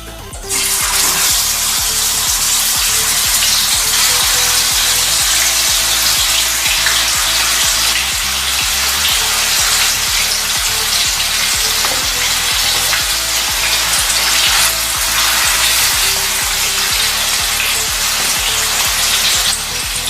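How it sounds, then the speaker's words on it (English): Steady, loud sizzling of marinated chicken for butter chicken frying in a hot pan on a low flame, continuous and close, with faint clinks and stirring underneath and no talking. "Let's fry our marinated chicken."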